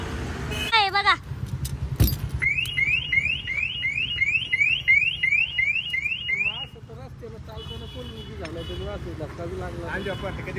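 A parked car's alarm sounds loudly up close, cycling through a repeating chirp of rising electronic tones and then a warbling siren pattern, with voices faintly in the background.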